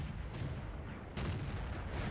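An A-44 tank's main gun fires in World of Tanks, with sharp booming reports over a continuous low engine rumble, one near the start and one just past the midpoint.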